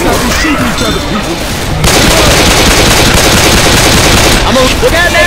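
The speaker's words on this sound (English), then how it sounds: "Let's not be shooting each other, people!" Gunfire in the Left 4 Dead 2 video game, played as a heavily modded VR mod, with dense rapid shots and crashing bursts that grow louder about two seconds in, while voices speak over the fighting.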